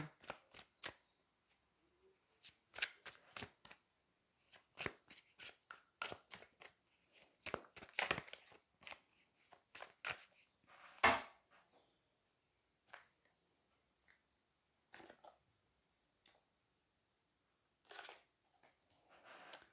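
Tarot cards are shuffled and drawn by hand, producing soft, close riffling and sharp card snaps in irregular clusters with quiet gaps between them.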